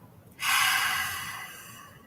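One long, breathy exhalation during a yoga breathing exercise starts with a sudden whoosh and fades slowly over more than a second. It is close and soft, with no talking.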